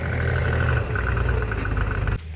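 A tractor ploughing a field, its engine running with a steady low drone and a faint rhythmic throb, close and loud, then cutting off abruptly near the end.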